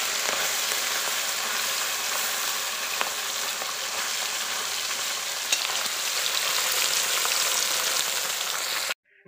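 Fish with carrot frying in a pan, giving a loud, steady, close sizzle with a few faint clicks from stirring, ending abruptly.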